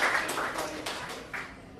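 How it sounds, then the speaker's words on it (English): Club meeting attendees give a short burst of clapping, a thin, close patter of a few hands that fades within two seconds. "So, round of applause for Devin."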